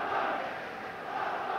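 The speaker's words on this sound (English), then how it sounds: "I can't remember a crowd like this" A dense boxing arena crowd roars and cheers at a Scottish title fight, a loud, sustained wall of voices.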